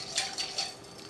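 Seasoning with fresh ground pepper stirred in a bowl, three light scraping strokes of a utensil against the bowl at an even pace, close and fairly quiet with no talking.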